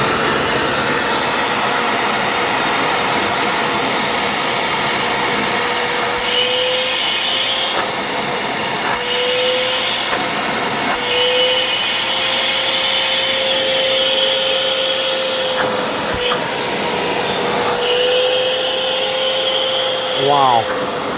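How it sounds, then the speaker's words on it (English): A stainless steel Vacmaster shop vacuum roars steadily while cleaning a dirty car interior, a loud, continuous high-pitched whine with shifting suction tones and brief rattles as debris is pulled in. "with this vacuum, I'm surely confident because it has a ton of power to be able to suck this up"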